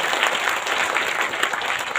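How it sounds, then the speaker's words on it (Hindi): Enthusiastic audience applause at a business gathering, a continuous dense wash of clapping from a crowd, steady and moderately loud with no talk over it. "जबरदस्त ताली बजाइए"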